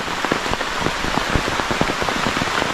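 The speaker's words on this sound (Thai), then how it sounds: "ฝนตกครับ" Steady rain falls on a fishing trip at a reservoir, with dense, constant pattering and splashing drops close by. No other sound stands out.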